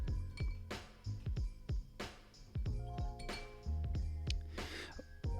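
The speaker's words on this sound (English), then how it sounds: "Rinse our brush." Paintbrush rinsed in a water jar during watercolor painting, quick repeated glassy clinks and taps against the jar, close and fairly soft, with no talk.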